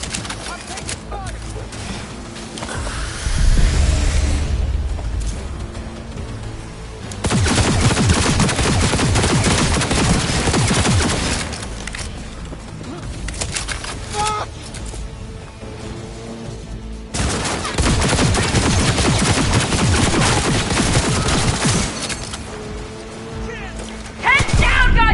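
Gunfire in the video game Cyberpunk 2077: loud bursts of rapid shots in several long stretches, with shouted voices over the firing.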